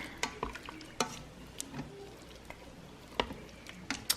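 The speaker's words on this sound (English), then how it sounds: "Give it a nice stir." Spoon stirring melted butter in an Instant Pot of pinto beans, scattered close metallic scrapes and clinks over a soft background sizzle, no talking.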